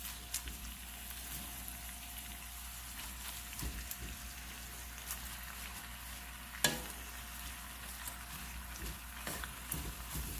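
Collard greens fry in oil in a pot, giving a steady, low crackling sizzle with light stirring and one sharp clank near the middle, all fairly quiet and with no talking.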